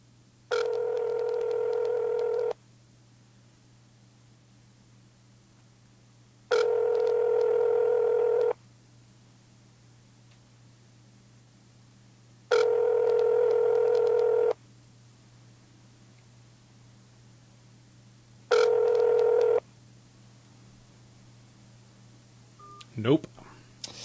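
Ringback tone on an outgoing phone call: four evenly spaced two-second ringing bursts separated by silent gaps, clear and close, with a short clatter at the very end.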